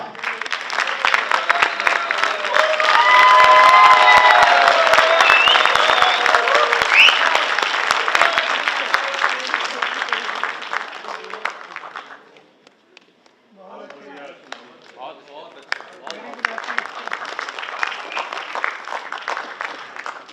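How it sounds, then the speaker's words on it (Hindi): Loud, sustained applause from a theatre audience welcoming stage and TV actor Ashish Sharma at a play, with cheering voices mixed in; it dies away briefly, then a second, softer round of clapping follows. "जोरदार तालियों से इस्तकबाल कीजिए आशीष शर्मा"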